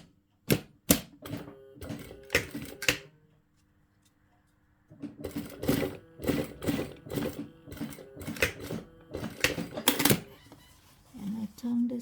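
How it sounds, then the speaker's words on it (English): A sewing machine stitches a dan stripe onto a Taekwondo dobok belt in quick, clattering bursts: several short runs, a pause of about two seconds, then a longer stretch of rapid stitching, loud and close. "and now I can sew it."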